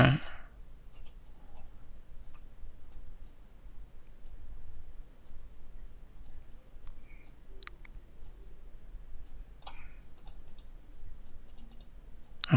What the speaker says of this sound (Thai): ผมดับคลิกเข้าไปก่อนเนาะนะครับ